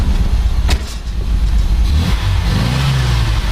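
MGB engine with freshly rebuilt carburetors running after a start, a steady loud close-up idle with a brief rev change partway through, no voices.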